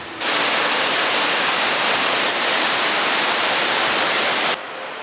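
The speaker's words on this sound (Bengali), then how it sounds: "আমরা দাঁড়ালাম সেই অপূর্ব খান্দা ঝর্ণার সামনে" Khanda waterfall in North Sikkim roars in a loud, unbroken rush of falling water close by. It cuts off abruptly just before the end.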